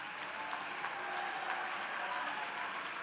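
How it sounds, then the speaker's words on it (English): Graduates and guests at a management institute convocation in a large hall applaud, a dense, even roar of many hands clapping throughout. "may we have a loud round of applause for everybody."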